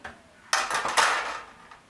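Metal clatter as a baking pan and wire rack are set down and shifted in a kitchen while making garri, a few bright clanks close by, then a fading ring.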